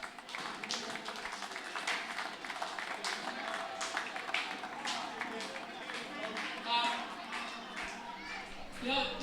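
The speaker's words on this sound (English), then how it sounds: "a round of applause for our referees," A crowd at an ANZAC Clash match applauds the referees, scattered claps and taps going on steadily at moderate distance, with children's voices and chatter mixed in.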